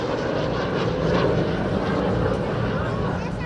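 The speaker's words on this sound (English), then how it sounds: "Another act which flew as the sun started setting was this Slovak L-29 Delfin." A Slovak L-29 Delfin jet trainer flies a display at a Romanian airshow at sunset, its engine a loud, continuous broadband roar that swells slightly as it passes.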